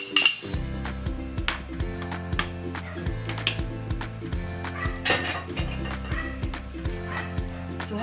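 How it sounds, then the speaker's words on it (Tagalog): Sweet Pinoy-style spaghetti sauce with cheese being stirred in a pot, with repeated metallic clinks of the spoon against the rim under prominent background music. "So, hahaluin lang natin."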